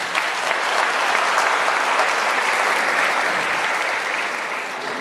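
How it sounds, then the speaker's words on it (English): Steady, dense applause from a large audience at a police community imbizo meeting, honoring police officers, continuous clapping that holds loud then tapers slightly at the end. "I want us to give a round of applause to the police officers who are committed to service"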